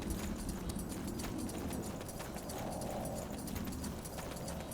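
Footsteps on the ground in Spellforce III, heard as a steady run of clip-clop beats like hooves under a constant background ambience, fairly even in loudness throughout.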